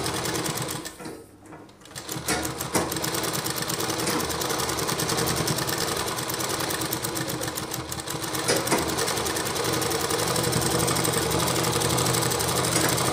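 A sewing machine stitches a blouse sleeve, running in a fast, even mechanical chatter close by, pausing briefly near the start before resuming loud and continuous for the rest.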